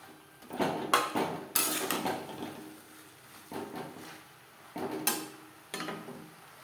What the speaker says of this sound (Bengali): মশলার সাথে ভেন্ডি রান্না করব মিডিয়াম ফ্লেমে